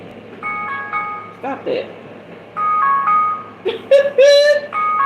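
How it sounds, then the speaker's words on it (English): A chiming electronic phone alarm melody repeats in short bursts while a person speaks over it, with a few sharp exclamations in between. "That's my alarm freaking me out."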